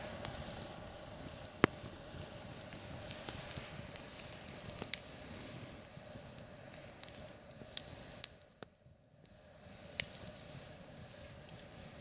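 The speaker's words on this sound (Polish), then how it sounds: "Druh mój przewiesił czajniczek i od razu słychać, że pracuje" Quiet crackling and soft popping of a campfire with a faint steady hiss from a kettle warming over the flames, with scattered sharp ticks throughout.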